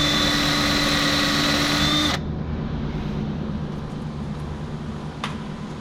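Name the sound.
drill boring hole with drill bit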